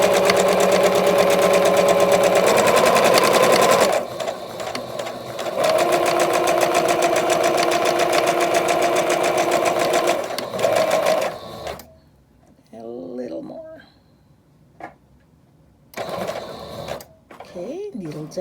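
A sewing machine runs in loud, steady stitching bursts while sewing a fabric face mask, stopping and starting several times, with quieter pauses and brief handling sounds between runs.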